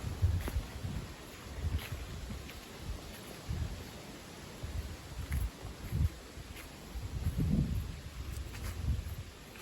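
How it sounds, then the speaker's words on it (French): Gusty northwest wind during a storm blows in uneven surges, low rumbling buffets rising and falling over a steady broadband rush with no voices. "Vent assez dingue."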